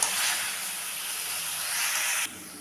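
Chicken pieces for a chicken patties filling go into a hot pan of spiced masala with a little water and are stirred in, giving a loud, steady, close hiss that drops away abruptly near the end.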